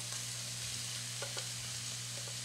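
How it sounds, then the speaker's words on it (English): A plain white onion and bacon cubes fry together in a pan for carbonara, giving a soft, steady sizzle with a few faint stirring taps under a low kitchen hum, quiet and close. "you've got bacon and onions in the pan"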